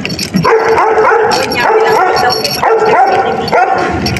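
Small dog yipping and barking in quick repeated bursts at close range, loud and excited, with people talking and calling out around it at a home.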